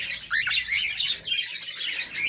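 A small budgerigar chirps and warbles in quick, high bright bursts, close and fairly soft, with short pauses between phrases.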